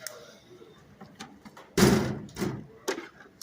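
A drawer in a 42-inch work box slides open with a loud thud near 1.8 seconds, followed by a couple of softer knocks and rattles from the tools inside, pry bars and seal pullers among them.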